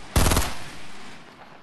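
A short, loud burst of rapid automatic gunfire in the video game Fortnite, close and dense for a fraction of a second, then fading into a lingering echo.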